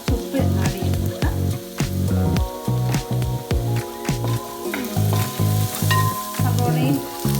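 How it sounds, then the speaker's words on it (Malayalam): Onion, garlic and ginger sauté with salt in hot oil for a mutton curry, a loud close sizzle broken by a steady rhythm of stirring scrapes and clatters. "സവോളയും വെളുത്തുള്ളി, ഇഞ്ചി ഏകദേശം ഒന്ന് വഴന്ന് വന്നിട്ടുണ്ട്."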